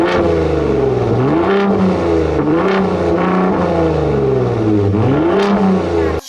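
A 2023 Ford Raptor R pickup with a 3.5-liter twin-turbo EcoBoost V6 revs repeatedly. The engine note rises and falls in several swells, loud and close, with no talking.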